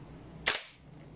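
A G&G Armament MGCR 556 airsoft gas blowback rifle fires a single sharp, loud shot with a quick decay, standing alone without talk.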